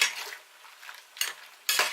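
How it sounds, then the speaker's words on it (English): Red cabbage with apple in a pot coming up to the boil and given a quick stir, a spoon scraping and knocking against the pot in a few short bursts separated by quiet gaps. "just give it a quick stir"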